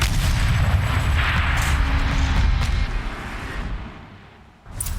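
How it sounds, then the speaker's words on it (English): A turret cannon fires in the video game Horizon Zero Dawn, giving a heavy, sustained rumbling roar that fades over several seconds before a fresh burst swells again at the end. "Rotate turret! And fire!"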